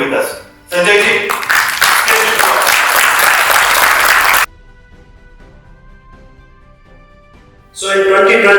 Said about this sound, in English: Ladies and gentlemen, with big round of applause